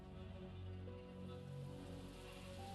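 Steady rain falls in a story scene of the Arknights game, an even hiss of drops that runs under sustained tonal music throughout.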